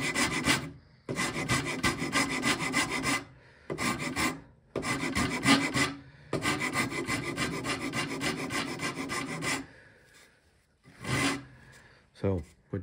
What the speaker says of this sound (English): We're just going to take a rasp